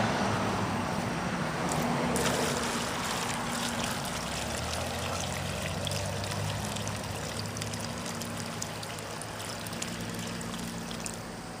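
Water poured onto soil around a newly planted peony in a garden bed, a steady trickling and splashing that runs continuously and fairly close, with faint road traffic humming in the background.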